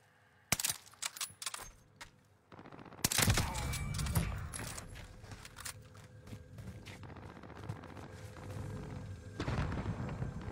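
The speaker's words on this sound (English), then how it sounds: "They're shooting at me." Gunfire in a video game: a burst of sharp shots, then a dense, sustained roar of rapid firing and booms that carries on loudly to the end.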